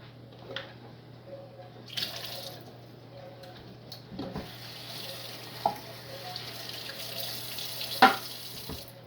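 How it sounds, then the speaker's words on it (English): Mushroom pieces are rinsed under a running kitchen tap, a steady quiet hiss of water with occasional splashes and clinks, under a low electrical hum and with no voice. "Just rinse them."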